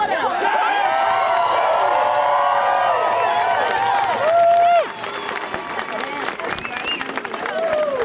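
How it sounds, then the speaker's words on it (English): A crowd at an outdoor anti-coal mining rally claps and cheers in a dense, continuous roar with whoops and shouts on top, then thins slightly toward the end. "What a crowd."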